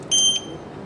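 A short electronic beep sounds once as a card is scanned at an RFID reader node of an Arduino-based wireless control system, a brief clear high tone with quiet room noise around it.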